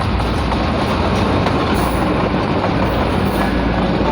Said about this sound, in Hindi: काफ़ी लंबी ट्रेन है।